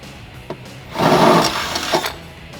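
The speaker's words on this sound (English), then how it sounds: "And then we're going to skip this one and drill this bottom one out." Power drill boring out the bottom mounting hole on a Jeep Wrangler JK for fender flare rib nuts, a single short whirring burst of about a second, close and fairly loud, without talk.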